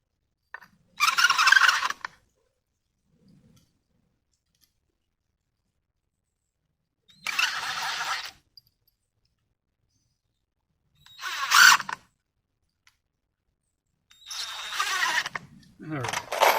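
A cordless drill pre-drilling and driving 2.5-inch screws into 2x6 lumber for a backyard bench, in four separate whirring bursts of a second or two with quiet gaps between them.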